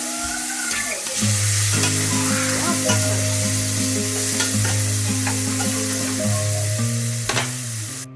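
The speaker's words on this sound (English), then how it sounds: "I also decided to fry up some sausage patties for the sandwiches as well" Sausage patties fry in a pan for breakfast sandwiches, giving a steady loud sizzle with a few stirring scrapes across it. No one speaks.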